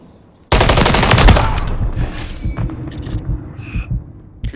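A grenade blast bursts loudly in Modern Warfare 3 multiplayer, followed by a dense stretch of rapid machine-gun fire that slowly thins into scattered shots and faint in-game effects.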